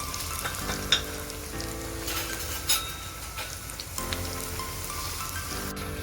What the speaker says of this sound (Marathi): आता दुसऱ्या साईडने फ्राय करते